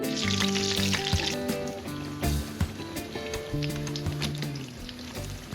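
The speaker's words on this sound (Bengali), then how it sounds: "বেগুনি তো ভাজছি" Battered eggplant fritters (beguni) fry in hot oil with a loud, bright sizzle and sputter that is strongest at first. Tonal sounds and sharp knocks run alongside it.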